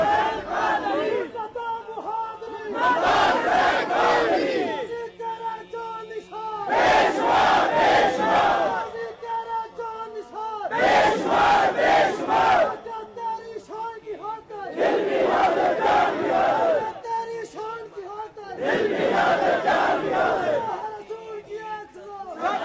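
A large crowd at a religious gathering chants slogans in four loud, roaring bursts, each lasting a few seconds and separated by quieter stretches of murmuring, heard up close.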